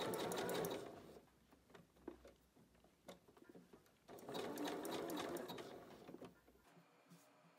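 Sewing machine basting a swimsuit with a zigzag stitch, two bursts of rapid mechanical whirring and needle patter with a short slower stretch between, close and fairly quiet, ending in quiet.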